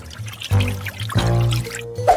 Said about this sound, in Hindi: अब चीनी, पानी, सब कुछ अच्छे से मिलाना है